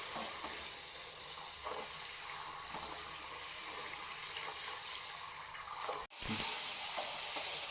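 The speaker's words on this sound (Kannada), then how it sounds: "ನೋಡಿ ಈಗ ಗುಳಿ ಗುಳಿನೂ ಎಲ್ಲ ಕಡಿಮೆ ಆಗಿದೆ ಈಗ ಫ್ರೈ ಆಗಿದ್ದಾವೆ" Popcorn-coated finger chips deep-frying in hot oil give a steady, loud, close sizzle and hiss that barely changes, with one very short dropout near the end and no voices.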